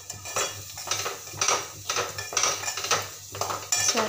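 Chopped capsicum is mixed in a pan with a spoon, producing close, rhythmic metallic scrapes and clinks about twice a second and a faint sizzle beneath.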